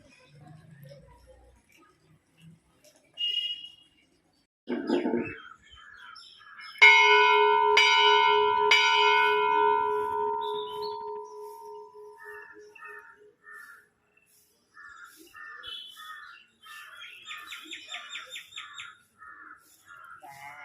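Bells ring out at a temple: a few strong resonant strikes that decay slowly, along with repeated chirping and calls from birds nearby. The strikes come early and are followed by more scattered bird calls, with no talking.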